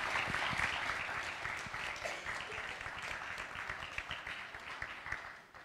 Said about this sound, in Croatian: Aplauz za kreacije, aplauz za dizajn.